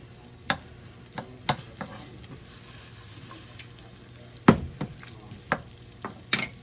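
Garlic sizzling in a pan on medium heat while being stirred with a wooden spoon, a soft steady fry punctuated by several sharp scraping knocks.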